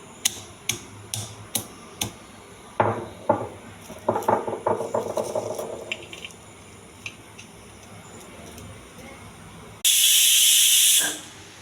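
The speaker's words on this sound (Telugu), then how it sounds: "వెలిగించి కుక్కర్ పెట్టాలి." A series of sharp clicks and taps, then a loud, steady burst of steam hissing from a pressure cooker on a lit stove for about two seconds before cutting off.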